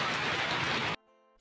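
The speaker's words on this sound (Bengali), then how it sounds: "1 ঘন্টা ধরে বৃষ্টি পড়ছে তো পড়ছেই, থামার আর নাম নেই" Heavy rain pours down as a dense, loud hiss for about a second, then stops abruptly into near silence broken by a faint tonal hum.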